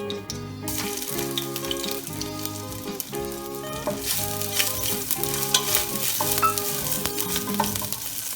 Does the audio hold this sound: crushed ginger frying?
yes